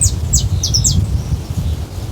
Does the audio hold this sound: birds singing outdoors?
yes